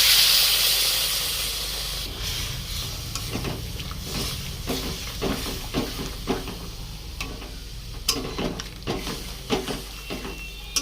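Milk poured into a hot pan of spiced, sautéed cauliflower, setting off a loud steady hiss that fades slowly, with faint stirring scrapes and clicks along the way.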